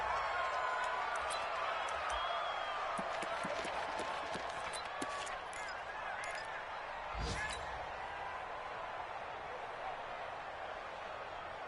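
A stadium crowd rises and roars in an American football video game on PS4 as a team lines up for a two-point try. The roar is a steady, dense wash with scattered thumps and faint voices in the mix.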